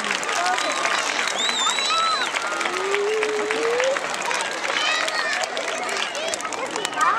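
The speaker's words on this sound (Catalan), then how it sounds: "Jo m'agradaria que a aquests professors i professores dedicasseu un fort aplaudiment." A school crowd gives its teachers a warm round of applause at a farewell celebration, dense clapping filling the room steadily throughout, with cheering and chatter mixed in.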